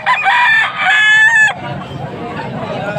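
A young rooster, a stag, crows loudly and close by at an outdoor Sunday market in Pampanga, one drawn-out crow lasting about a second and a half, followed by low market murmur and clucking.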